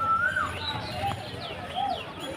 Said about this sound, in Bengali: কি সুন্দর কোকিল ডাকছে।